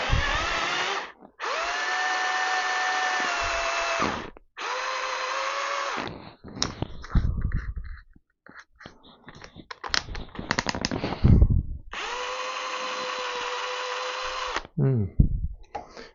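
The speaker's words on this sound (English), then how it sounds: "this drill chuck isn't running true" A power drill with a new chuck that runs out of true whirs in several sustained high-pitched bursts, with clattering and handling noise between runs; close and loud.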